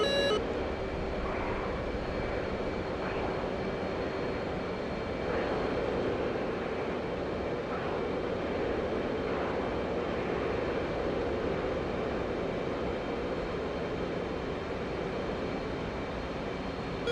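Steady, loud jet engine roar from a fighter aircraft in DCS World flight simulation, a continuous drone filling the whole stretch with faint beeping tones layered on top and no talking.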